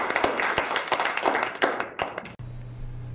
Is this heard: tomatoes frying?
no